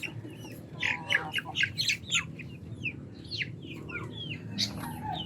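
Chicks chirp and cheep over and over inside a cheap chicken tractor, high bright calls coming in quick overlapping bursts close by, with a low steady rumble of background noise underneath.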